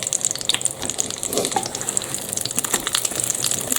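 Cutlets frying in a pan, an uneven crackling sizzle with small pops and spits scattered throughout, fairly close and loud, with no speech.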